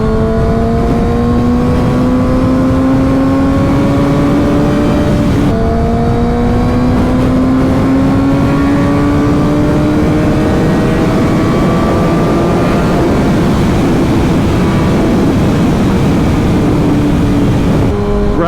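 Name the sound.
wind noise while riding a motorcycle with full face helmet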